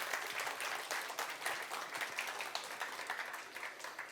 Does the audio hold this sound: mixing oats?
no